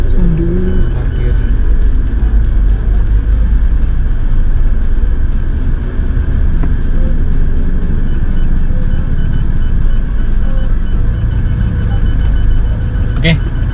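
A car engine rumbles steadily and loudly inside the cabin while parking at a McDonald's, with faint electronic beeping chimes at the start and again later, and no clear talking over it.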